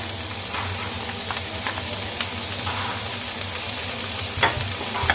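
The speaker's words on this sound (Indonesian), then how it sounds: "Kita tumis kembali." Chilies sautéing in a pan for a Taiwanese-style beef noodle seasoning make a dense, constant frying hiss over a low background hum, with occasional faint stirring taps and no voices.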